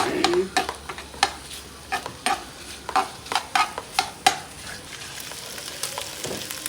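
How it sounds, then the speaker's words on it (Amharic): Meat and onions with shiro sizzling in a pan on Ethiopian home-cooking fare, stirred with a utensil that knocks the pan in a quick run of sharp scrapes and taps over a steady frying hiss, close up, no voices. "መቁላላት ጀምሯል። እንደምታዩት በደንብ ይቁላላና በደንብ መምታት አለባችሁ።"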